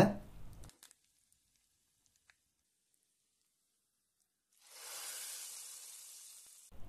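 Hot oil tempering of mustard seeds, cumin, a dried red chilli and curry leaves sizzles as it is poured into sambar, a steady hiss lasting a couple of seconds after a near-silent pause.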